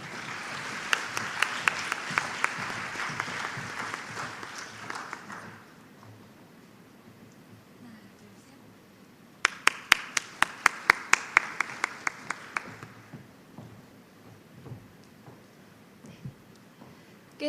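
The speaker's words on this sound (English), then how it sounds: "Please welcome them with a warm round of applause." Audience applause welcoming presenters at a university research paper competition, a sustained round of clapping for about five seconds, a quiet pause, then a second burst of sharper, sparser claps near the hall.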